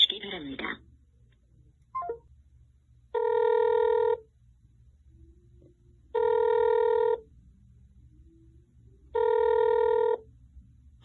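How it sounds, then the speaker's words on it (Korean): Telephone ringing unanswered on a call to a political party office, a recorded voice message first, then three evenly spaced long ring tones with quiet gaps between, clear and close through the line. "여기도 또 안 받으시는 상황인데요."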